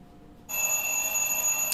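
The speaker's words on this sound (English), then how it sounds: "The alarm is ringing." An alarm starts ringing sharply and continuously after a short quiet moment, a close electronic bell tone that holds steady to the end.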